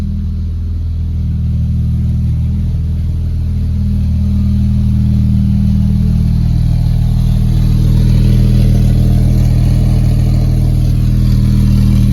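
A 2007 Porsche 911 Turbo engine revs loud and close, its low rumble rising steadily and holding at a sustained, heavy idle-to-rev drone for the whole stretch with no voices.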